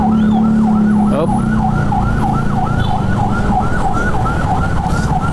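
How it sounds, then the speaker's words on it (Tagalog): An ambulance siren wails in a steady rising and falling cycle through congested traffic at Balintawak, loud and close over a constant rumble of engines and road noise during heavy rain. "Ayan mo yung ambulansya na yan."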